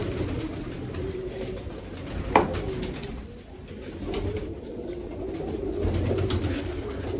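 Soft, low cooing of pet pigeons in a coop murmurs through a steady background hum, with one sharp clack near the middle; no voices.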